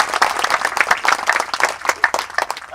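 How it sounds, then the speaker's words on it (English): Audience claps for student poets at an Angel Island poetry reading, a close, dense burst of applause that holds steady for a few seconds with no talk over it. "How about another round of applause?"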